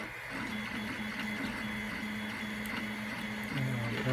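A 3D printer lays down filament for an InMoov robot build part, whirring steadily with repeating stepper-motor tones that run on evenly throughout.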